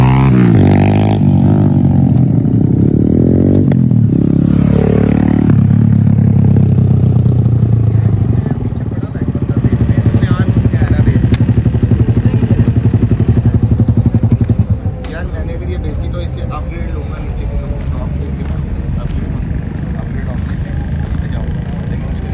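A Honda CB150F with a 150cc engine and a Yamaha YBR with a 125cc engine run together during a drag race, loud and close, revving and roaring early on, then settling into a steady, rougher drone.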